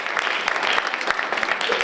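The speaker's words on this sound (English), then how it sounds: "Give him a round of applause." Audience applause at a women of color entrepreneur conference, a brief burst of dense clapping from a seated crowd with no voices on top.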